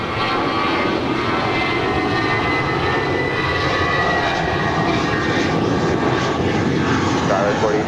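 A fixed-wing airliner landing on runway 25 left at LAX, its engines roaring loud and steady throughout, with radio chatter heard under the noise.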